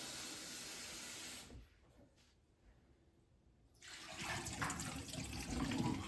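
Water poured from a glass or bucket into a bathroom sink with a newly replaced faucet, a steady rushing hiss that drops away briefly then returns louder, with no talking.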